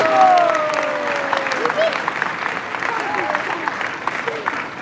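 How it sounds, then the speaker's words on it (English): An audience at a spiritual gathering gives a round of applause, sustained clapping from a large crowd with a few whistles or vocal cries rising over it, loud at first and settling into steady applause. "Please give them a round of applause"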